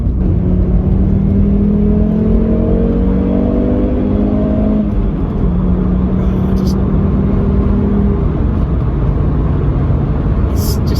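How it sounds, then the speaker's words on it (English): A Volvo 850's five-cylinder engine runs steadily with a smooth, even hum and slight pitch changes as it revs, loud and close. "Silky smooth sound of that 5-cylinder engine."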